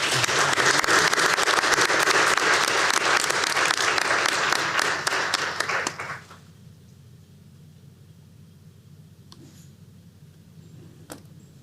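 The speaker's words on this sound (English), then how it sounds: "So let's applaud our students again." Audience applause for students at a school board meeting, loud and sustained for about six seconds, then cutting off to a quiet room with a couple of faint knocks.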